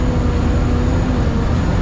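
An open-air Universal Studios Hollywood tour tram turning in a U-turn gives a steady, close rumble of running gear and road noise, with a low engine drone and no voices.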